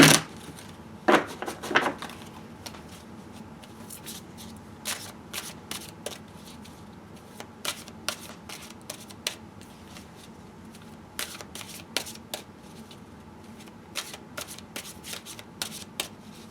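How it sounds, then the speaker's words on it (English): Tarot cards dealt onto a table in a Celtic Cross spread, a burst of shuffling followed by scattered soft slaps and flicks of cards set down one after another, quiet and close with no talk. "I'm going to deal out the Celtic Cross, putting the cards right next to the other card"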